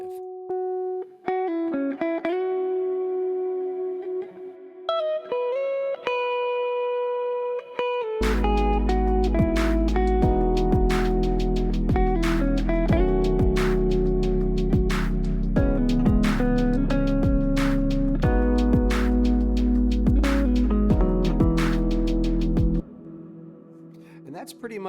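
A processed electric guitar melody plays alone at first, then heavy drums and deep bass join, and the guitar continues over the full, loud beat.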